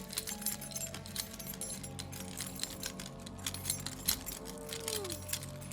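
A set of keys jangles and clinks near the mic in a continuous metallic rattle, with quiet background hum and no clear speech.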